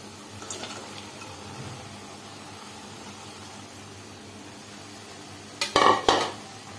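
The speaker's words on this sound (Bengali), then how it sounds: "তো আমি পুরো মাংস এবং সবজিটা এখানে দিয়ে দিচ্ছি।" Meat and vegetables tipped into a pan of chicken vegetable chow mein, faint kitchen background then a sudden burst of clattering and sizzling near the end.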